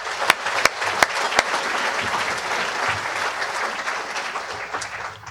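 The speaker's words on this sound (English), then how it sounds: "So let's give them a round of applause." Conference audience giving a round of applause, a broad, sustained wash of many hands clapping at steady loudness, with a few sharp, close claps standing out at the start.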